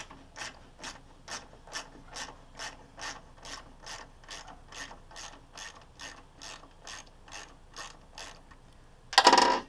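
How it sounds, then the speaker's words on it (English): Ratchet tightening a nut while mounting a Mishimoto catch can, with a regular run of about seventeen clicking strokes at close range, ending in a brief louder rattle. "got the 10mm box wrench and the ratchet. Let's go ahead and mount that on."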